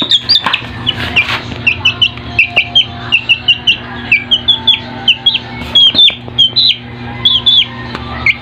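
A bantam chicken clucks close by in a rapid run of short, high, chirpy calls over faint background noise.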